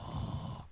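A human voice imitates a creature's low growl in a short, rough, rumbling burst that ends abruptly.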